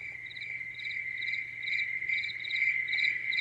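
A sunrise lamp plays a forest soundscape of crickets, giving steady, high, pulsing chirps that repeat in regular bursts over a faint background hum, with no voices.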